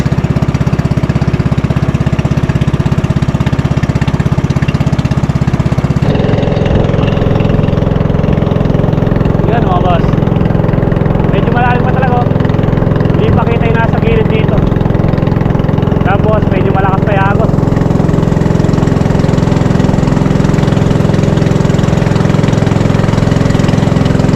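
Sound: motorboat engine struggling against strong current

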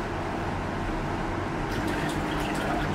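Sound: cardboard indoor waterfall turned on, running water

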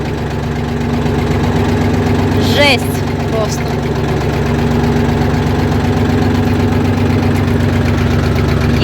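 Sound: walk-behind tractor engine running

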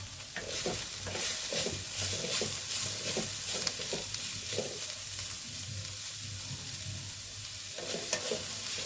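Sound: stirring amaranth leaf fry in a pan

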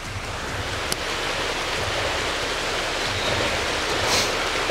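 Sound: waterfall flowing

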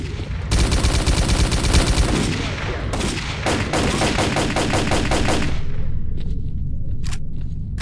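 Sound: gunfire in the video game S.T.A.L.K.E.R.: Call of Pripyat

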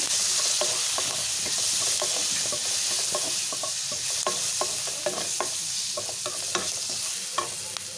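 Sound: curry leaves and turmeric stirred into frying tomato curry

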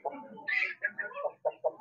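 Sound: rooster clucking

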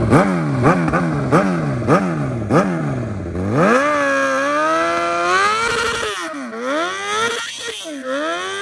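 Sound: Suzuki GSX-R 750 motorcycle engine revving during a burnout

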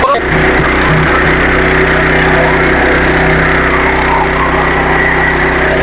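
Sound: stubble mower running

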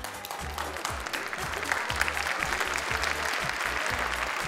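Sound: audience applause

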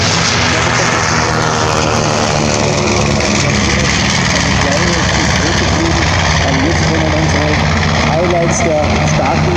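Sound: North American B-25 Mitchell radial piston engine, low pass

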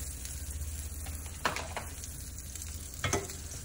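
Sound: butter and oil sizzling as the pan is greased

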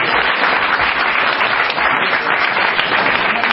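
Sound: congregation applauding

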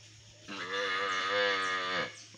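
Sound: young spotted calf mooing

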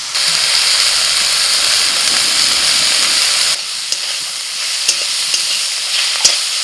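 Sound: frying with onions in a pan

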